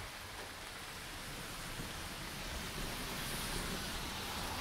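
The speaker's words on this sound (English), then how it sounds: "If we move up close, we can see the rain right there." Rain falling outdoors onto leaves and ground, a dense steady hiss that holds evenly throughout, broad and enveloping with no voices.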